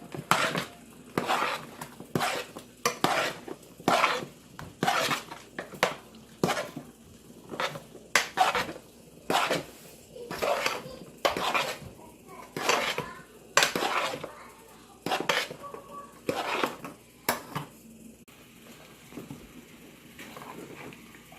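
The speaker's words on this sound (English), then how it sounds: "Mix everything together." Soup with crayfish is stirred in a pot, a spoon scraping and knocking against the sides in regular rhythmic strokes roughly every second, close and clear, easing off near the end.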